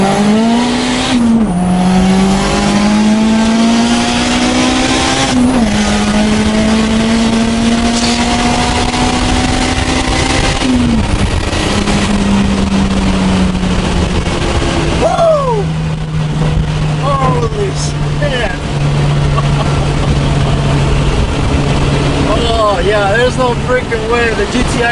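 450 WHP turbocharged Honda Integra, reportedly running on three cylinders with one low on compression, accelerating hard from inside the cabin: loud rising engine pulls broken by gear shifts, with tire squeal near the end.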